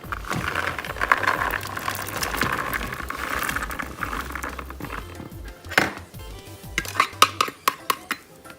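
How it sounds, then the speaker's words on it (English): Dried pinto beans, still firm after rinsing in a colander, poured into a pot on the stove for ham hock beans, giving a rattling clatter followed by a few distinct knocks and clinks near the end. "what I'm going to do is add in the pinto beans"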